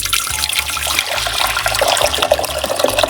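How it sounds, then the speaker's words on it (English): Hot water pours steadily into a container for a coconut milk drink, a continuous splashing, gurgling stream, close and fairly loud without speech. "Hot water."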